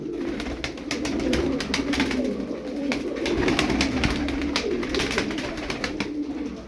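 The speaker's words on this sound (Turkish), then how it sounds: "On iki tane kuş var." Tumbler pigeons coo in a continuous, close chorus of soft rolling calls, layered and overlapping throughout without any talk.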